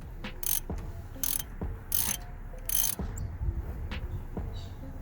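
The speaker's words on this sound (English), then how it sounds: "we want to undo this bolt here" Ratcheting spanner working a brake caliper bolt loose, a close series of rapid clicking ratchet strokes in bursts with metallic taps between them.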